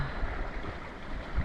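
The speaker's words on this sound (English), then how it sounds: "I hear the water" Water rushing and gurgling past the hull of a sailboat under way on an ocean passage from Vanuatu to Cairns, a steady close broadband wash with low swells and no voices.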